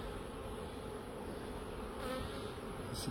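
Honey bees buzz steadily at an apiary hive being strengthened, a dense, continuous drone close by that holds an even level throughout with no voices.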